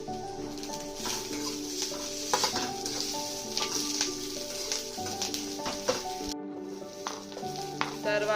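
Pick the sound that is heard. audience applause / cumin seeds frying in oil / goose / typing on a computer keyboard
cumin seeds frying in oil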